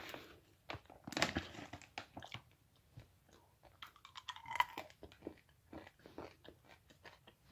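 Someone chews a fudge brownie close to the mic, with soft sticky mouth sounds, occasional crunches and quick bites coming in uneven bursts.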